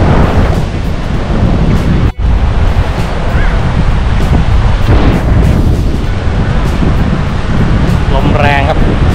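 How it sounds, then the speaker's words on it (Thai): Strong wind buffets the microphone on a beach at Cha-am, Thailand, with surf rolling underneath; a steady, loud roar that barely lets up for the whole stretch. "ลมแรงครับ"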